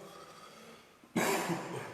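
Someone speaking at a church Bible class gives one sudden, close cough after a quiet pause, followed by a short rough breathy tail.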